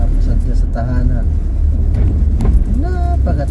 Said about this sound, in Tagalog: Napaka-traffic.